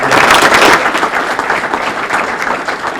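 Audience applause at a town reorganizational meeting in Clarkstown, a steady wash of many hands clapping, loudest at the start and easing slightly as it continues, with no voice above it.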